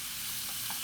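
Breakfast pizza ingredients browning in a hot pan on a Big Green Egg grill give off a steady, close sizzle that fills a very brief moment with no voices.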